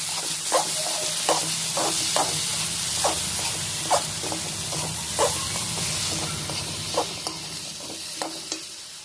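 Raw mango pieces stirred into hot oil for a quick pickle, a soft continuous sizzle punctuated by regular spoon scrapes and knocks against the pan about once a second, close and moderately loud, no voices.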